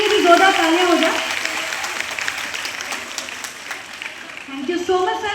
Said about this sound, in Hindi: तो एक बार गेल गैस के लिए भी जोरदार तालियां हो जाए।